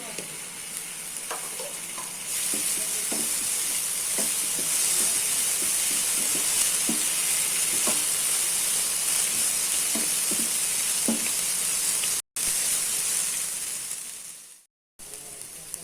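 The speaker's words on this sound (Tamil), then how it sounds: "நான் இஞ்சி பூண்டு பேஸ்ட்டு ஒரு டீஸ்பூன் மட்டும் போடுறேன்" Onions frying with ginger garlic paste in a pan for potato soya masala filling: a loud continuous sizzle with light stirring taps throughout, interrupted by two brief silent gaps near the end.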